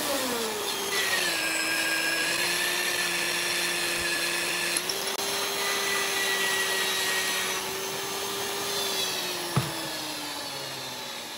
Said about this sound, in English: Let me take the 5/8 reamer.